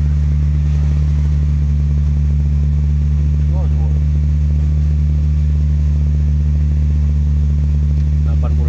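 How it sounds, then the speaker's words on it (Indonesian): Toyota Vios car engine held at about 2000 rpm, a loud steady hum with strong low tones that stays constant, with faint clicking and chirping traces above it. "Udah kita gas ya sampai di 2000."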